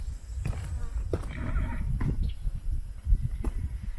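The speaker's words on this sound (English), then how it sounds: "The horses are ready to go." Saddled horses on a campfire trail shift and clop their hooves near at hand, with soft thuds and a brief whinny mixed into low outdoor rumble.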